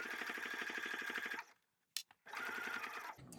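A sewing machine stitches a pocket on a crossbody bag, running steadily at close range, then pausing with a couple of clicks before starting up again and running on.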